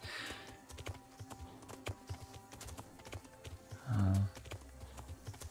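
Rhythmic clip-clop of horse hooves at a steady trot in the video game Kingdom Come: Deliverance, fairly faint, with a brief louder snort or blow partway through.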